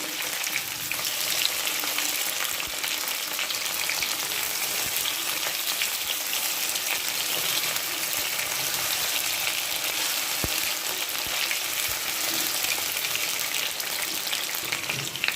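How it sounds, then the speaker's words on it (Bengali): Pointed gourd (potol) pieces fry in oil with a dense, even crackling sizzle like light rain. It is steady and close and runs on without a break for about fifteen seconds, with no talking. "সবগুলো পটল আমি একসাথে ভাজতে দিয়েছি এখন সময় নিয়ে পটলগুলো ভেজে নেব"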